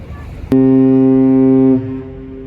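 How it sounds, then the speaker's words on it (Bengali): A loud, deep ship horn blasts for about a second and a half near Lakshadweep, steady and harmonic, then cuts off, leaving a low rumble of engine and water. "জাহাজের হর্ন শোনা গেল"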